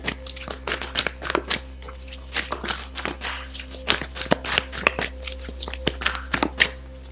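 Oracle cards shuffled for a tarot reading, a steady run of soft riffling taps and card slaps repeating close by for several seconds over a low constant hum, with no talking.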